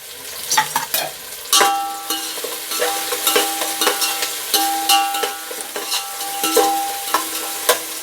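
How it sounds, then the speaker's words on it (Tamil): Tomatoes sautéing in a pot for Dindigul-style mutton biryani, with repeated clinking spoon stirs and scrapes over a steady sizzle, close and fairly loud, no talking. "ஸோ தக்காளி நல்லா வதங்கிருச்சு"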